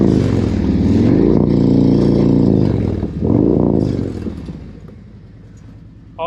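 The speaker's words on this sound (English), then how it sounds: "That sounds like my motorcycle again." A Harley-Davidson CVO Street Glide bagger engine with a slip-on exhaust revs hard and loud with a raspy exhaust note, rising twice and then easing down to a lower idle.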